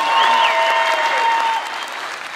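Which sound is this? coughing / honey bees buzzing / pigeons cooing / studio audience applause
studio audience applause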